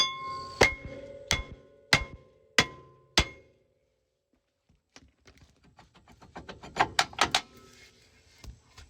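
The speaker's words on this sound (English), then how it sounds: "I got to get my bigger hammer and hit this rotor surface and get the rust loose" Five heavy metallic hammer blows ring out at a steady pace on a rusted brake rotor of an SL 500, then a pause followed by a flurry of lighter clanks and knocks.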